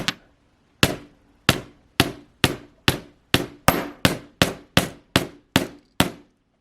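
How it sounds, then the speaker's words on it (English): Repeated sharp hammer blows flattening metal for earrings, a steady rhythm of about a dozen ringing strikes, close and loud. "hammering it flat"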